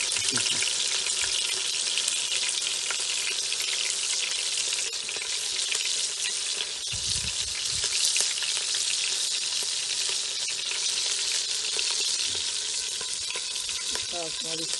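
Constant, crackling sizzle of food frying in a hot pan, loud and close, with occasional stirring scrapes and no voices.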